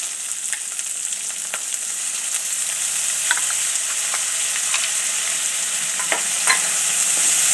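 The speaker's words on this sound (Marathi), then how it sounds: "अशी छान आपली परतून घ्यायची." Ghol bhaji greens with peanuts and dal sautéing in a pan, a steady bright sizzle with scattered spatula scrapes and taps throughout, close and alone with no talk.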